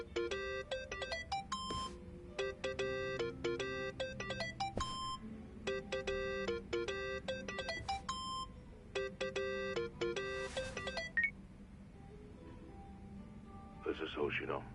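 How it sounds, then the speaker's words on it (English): A cheerful electronic phone ringtone from the video game Yakuza: Like a Dragon chimes in repeated melodic bursts, loud and steady over a faint game backdrop, cutting off near the end. "Think that's your phone, man."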